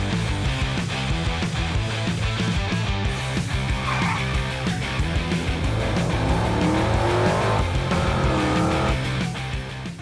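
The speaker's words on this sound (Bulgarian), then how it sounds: "докато племенникът ми получава първия си урок как да кара кола" A car driven by a beginner learning to drive at a park, with its engine running loudly and tires squealing and skidding in several long sweeping screeches over steady motor noise.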